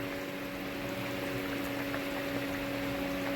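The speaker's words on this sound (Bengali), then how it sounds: "তো এটা কিছুক্ষণ ফুটতে থাকুক" Silver carp fish curry with potato, okra and pointed gourd simmering in a pot, giving a soft, steady bubbling hiss with a faint constant hum and no talking.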